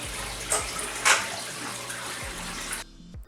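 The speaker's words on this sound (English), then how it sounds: "So the water feeds directly into the sock and then hits the skimmer." Water pours steadily into a filter sock in a reef aquarium sump below the display tank, a close continuous splashing and gurgling with a couple of louder surges before it cuts off abruptly.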